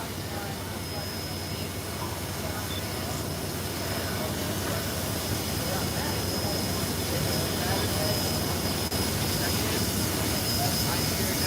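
A steady, loud diesel locomotive engine drones at close range with a broad, constant rumble throughout, and a voice is heard talking faintly now and then.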